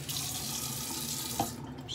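Bathroom sink tap running during a morning shave, a steady close stream of water splashing into the basin at moderate level, with a small clink partway through and no talking.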